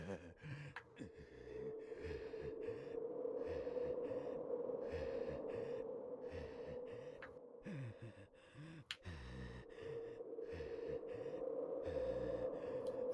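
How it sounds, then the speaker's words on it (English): Ganon pants in a Zelda video game, a faint, steady, rhythmic heavy breathing that continues throughout with a few sharp clicks scattered over it. "When we get to listen to Ganon panting."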